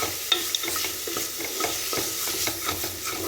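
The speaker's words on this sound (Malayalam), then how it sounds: "പച്ചമണം മാറുന്ന വരെ നമ്മൾ ഇതങ്ങ് ഇളക്കി കൊടുത്തുകൊണ്ടേ ഇരിക്കണം." Onions stirred and frying in a pan for tomato rice, a steady sizzle broken by repeated scraping strokes of the spoon against the pan, close and with no voices.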